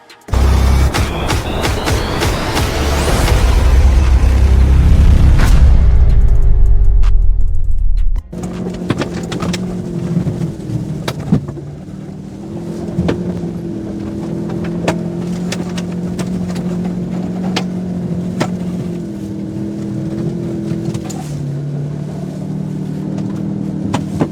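A Jetour X1 SUV climbs a snowy hill, its engine roaring loud and low with rising revs for several seconds, then dropping to a quieter steady drone with shifting tones and occasional knocks.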